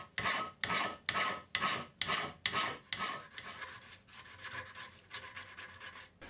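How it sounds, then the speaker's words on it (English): Hand file rasping back and forth across a steel connecting rod profile, guided by hardened silver steel buttons; steady rhythmic strokes, loud and close at first, then softer and quicker, with no talking. "I decide to file the profile, and of course using a couple of hardened silver steel buttons as a guide"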